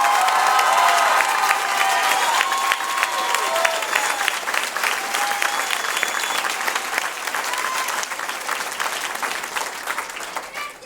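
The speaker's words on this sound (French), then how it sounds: "je vous invite une fois de plus à les applaudir pour tout ce beau travail" An audience at a community arts showcase applauds the participants, a dense, steady wash of clapping with scattered cheers and whistles that holds loud for about eleven seconds and eases slightly toward the end.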